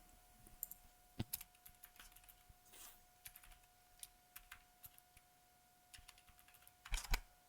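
Typing code on a computer keyboard: quiet, close, irregular key clicks with a busier flurry of keystrokes near the end.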